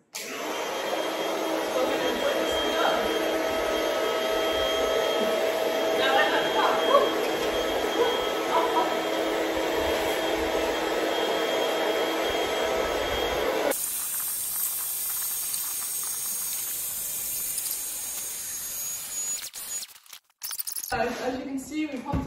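A built-in electric pump inflates an Intex Dura-Beam Deluxe Comfort-Plush air mattress with a loud, steady whirring hiss that shifts in tone partway through, then stops near the end amid handling noise.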